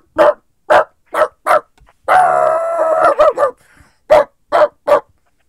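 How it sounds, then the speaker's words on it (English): A dog barks loudly in a steady series of sharp, evenly spaced barks, breaking into one long drawn-out howl midway before barking again, close and alone. "Can you hear the dog?"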